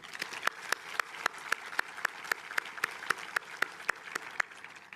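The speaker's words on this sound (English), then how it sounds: "Let's give them a round of applause." Audience at a high school graduation ceremony clapping in a round of applause, a sustained mass of crisp claps with a rhythmic pulse running throughout.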